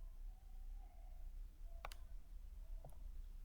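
Two crisp computer keyboard key presses click out a Windows shortcut, faint and isolated against a low background hiss.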